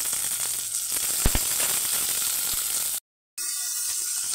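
Onions and tomatoes fry in a pan for prawn pulao with a continuous close sizzle and a few stirring clatters, cut by a brief silent gap before the sizzle returns.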